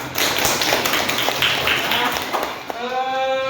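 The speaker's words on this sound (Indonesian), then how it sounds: "Tepuk tangan." Students in a classroom clap their hands together, a steady, fairly close patter of claps running under talking voices, tapering off near the end.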